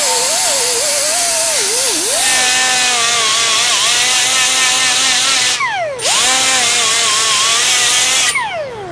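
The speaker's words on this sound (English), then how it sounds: "So just trying to grind all the metal, get it cleaned up" An angle grinder cleans up metal on a VW Beetle gasser drivetrain mount, with a loud, continuous high-pitched whine whose pitch dips and rises under load and two brief cut-outs near the end.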